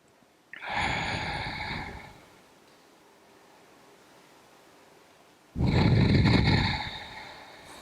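Two long, loud breaths held in a yoga hamstring stretch, each a breathy rush of air lasting over a second, separated by several seconds of quiet room tone.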